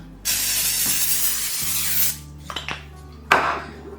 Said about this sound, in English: So I'm gonna give this casserole dish spray, my cooking spray